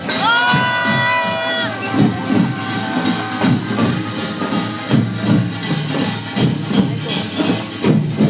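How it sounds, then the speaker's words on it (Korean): A crowd at an outdoor protest rally at the main gate of a military airport in Gwangju, Korea, cheers and shouts loudly and continuously, with a few sustained high tones near the start. "큰 박수 좀 맞이해 주십시오."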